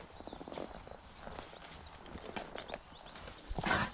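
A Shire horse's hooves clip-clop at a slow walking pace on a hard surface, fairly close, with faint birdsong in the background.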